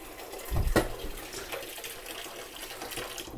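Cool tap water runs into a container during a homebrew session, with a brief louder splash at first, then a steady close rush of filling water.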